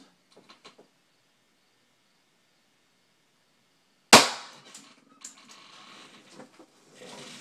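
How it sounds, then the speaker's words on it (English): Bad capacitors burst in a sharp, loud pop right after a power strip is switched on, followed by a few smaller crackles and pops with debris rustling; a few faint clicks precede it in near silence. "That's what happens when capacitors go bad. They explode, and they get confetti everywhere."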